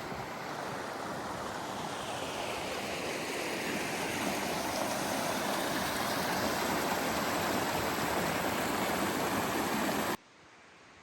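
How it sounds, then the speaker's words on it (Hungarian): A babbling mountain stream in the High Tatras in winter, water rushing and splashing steadily and close by for about ten seconds before cutting off abruptly. "patakok csobogása"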